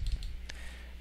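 A computer mouse clicks while drafting in CAD software for a plasma CNC table, a few faint, sharp taps clustered at the start and a couple more spaced later, over quiet room hum.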